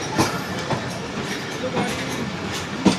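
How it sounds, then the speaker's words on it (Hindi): The Shalimar Express rolls into Bahawalpur station on the Rohri to Lahore line, heard from inside as a steady rumble with periodic wheel clacks over rail joints, moderately loud and without talk. "ट्रेन हमारी नवाबों के शहर भावलपुर रेलवे स्टेशन अप्रोच बना रही है।"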